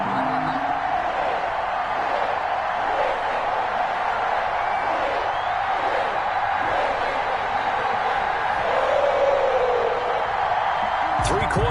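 A stadium crowd in an NFL video game on PS4 hums as a continuous, fairly loud wash of indistinct noise, with faint swells of cheering and no distinct individual voices.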